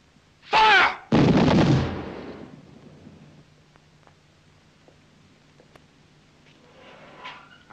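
A firing squad volley in a 1969 war film, two loud gunshot bursts close together, then a fading echo and quiet room tone.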